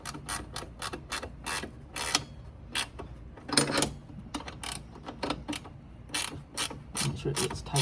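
Quick bursts of ratchet clicking as bolts are tightened on a Porsche 924S windshield wiper motor, close and fairly quiet, coming in irregular runs with short pauses between them.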